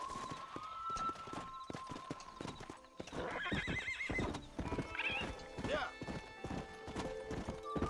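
In Red Dead Redemption, a galloping horse's hooves beat steadily near a cliff edge, with a loud whinny midway and another later, while someone speaks over the game audio.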